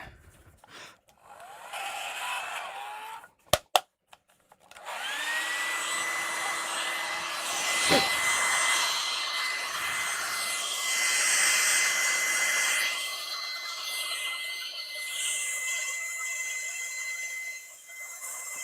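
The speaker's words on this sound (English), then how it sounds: "Really, really, really old. Hair blower, whatever you call it." A really old hair blower runs in a woodturning workshop. It starts with a few clicks and brief bursts, then settles into a steady whining motor roar with a rising and shifting pitch. The roar is close and continuous, with no talk.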